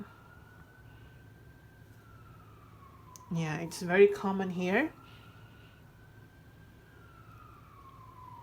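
A distant ambulance siren wails steadily in the background, rising and falling, while a person briefly speaks over it.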